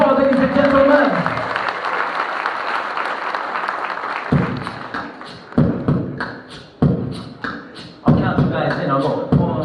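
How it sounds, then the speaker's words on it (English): Audience applause breaks out during a live hip-hop performance at Western Art Week 2019, a dense wash of clapping for about four seconds before giving way to sharp rhythmic thumps and beats. "Let's give her a round of applause, ladies and gentlemen."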